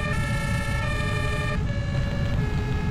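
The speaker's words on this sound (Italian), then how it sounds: "Vediamo qua le sirene come si spengono." Several emergency vehicle sirens wailing together at a fire in Farming Simulator 19, loud steady tones layered over a rumbling engine, one siren cutting off partway through while another continues, no talk.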